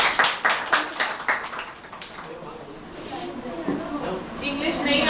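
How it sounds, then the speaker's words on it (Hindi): Students in a classroom clap for a classmate, a burst of close, uneven hand claps in the first couple of seconds that fades, then voices talk over a murmuring room. "Siddharth के लिए जोरदार तालियां please."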